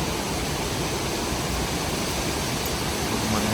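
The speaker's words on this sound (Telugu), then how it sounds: "ఆ ఫాల్స్ సౌండే వాటర్." A waterfall in Tasmania, on the road between Hobart and Queenstown, gives off a steady, dense roar of rushing water. The sound is close and constant, with no break and no voices over it.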